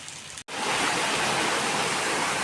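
Heavy rain pours down in a dense, steady roar that starts abruptly after a brief silent gap and then stays loud and unbroken, with no voices over it.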